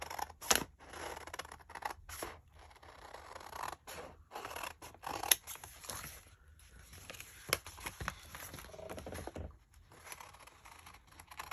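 Scissors snip through paper while a Merry Christmas sign is cut out, with quiet, close, irregular cuts and brief crinkles between pauses.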